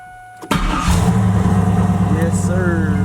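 A turbocharged Camaro with a TH400 transmission, parked only twenty minutes, cranks briefly and fires up, then settles into a loud, steady, lumpy idle close by.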